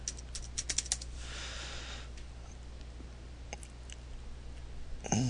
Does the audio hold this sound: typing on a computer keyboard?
yes